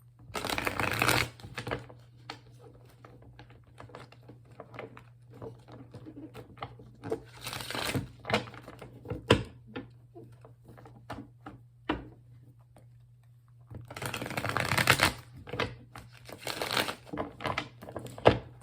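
A Rider-Waite tarot deck with extra major arcana cards mixed in is shuffled up close. Dense papery riffles come in bursts at the start, middle and end, with softer card handling and taps between them.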